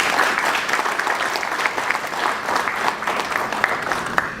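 A crowd at a launch event in a hotel applauds with brisk, continuous clapping from many hands, fairly close and loud, holding steady for several seconds.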